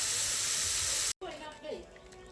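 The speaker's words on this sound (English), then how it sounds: "let this sizzle down or boil down for a couple of minutes" A covered pot of chana and aloo sizzles and boils, a steady close hiss of steam that cuts off abruptly midway, after which softer bubbling continues under a voice.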